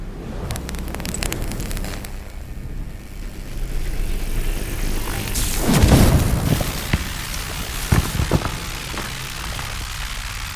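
A designed effect layering a deep boom with rocks falling for punch: a rumbling, noisy bed swells into a heavy impact around the middle, followed by scattered rattling debris hits.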